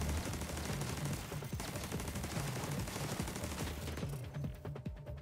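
Automatic turret gunfire in The Division 2 on PC, a dense, continuous stream of rapid shots with layered impacts that stays loud throughout, no talking over it.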